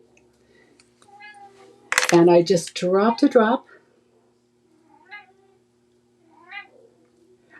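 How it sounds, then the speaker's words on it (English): A 17-year-old ragdoll cat meows for dinner, with a loud burst of meows partway through followed by a few faint distant mews, while someone talks in a quiet room. "the noise you hear in the background is my new kitty"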